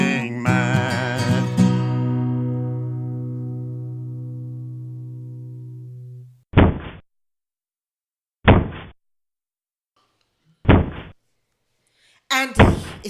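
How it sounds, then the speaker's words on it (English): A door is battered with heavy blows: after a fading musical chord, three separate loud thuds land about two seconds apart amid silence, followed by a further burst of noise. "He's going to break that door down."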